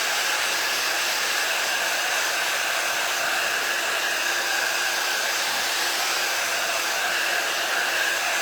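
A hair dryer blows steadily and evenly to dry a craft project, a constant airy whoosh held at one level throughout with no talking.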